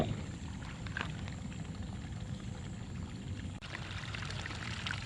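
Steady, dense rush of flowing rainwater during rainfall, constant and fairly close, with a brief dip partway through and no voices.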